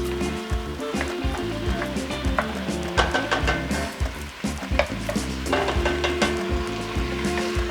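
Vegetables frying in a hot pot for braised short ribs, stirred with a utensil that scrapes and clanks over a constant sizzle, close up and fairly loud.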